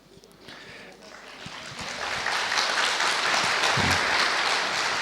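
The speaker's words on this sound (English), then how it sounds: "This clapping is because the time is over." An audience claps at the end of a talk, the applause starting faintly and swelling into a loud, sustained, dense patter that fills the room.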